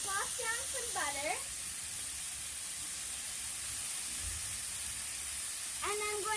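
Butter sizzles on a hot Blackstone griddle next to searing ribeye steaks, a steady loud hiss that runs the whole way through, with a voice speaking briefly at the start and again near the end.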